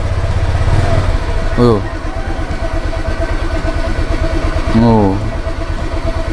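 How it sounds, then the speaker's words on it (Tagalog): Motorcycle engine idles while warming up, a steady mid-pitched putter with two short throttle blips rising in pitch; people speak briefly over it. "Painitin natin yung makina."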